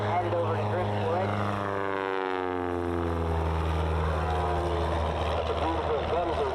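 A propeller aircraft at an Arkansas air race flies past with a loud, steady droning engine hum that shifts in pitch as it passes, continuous throughout.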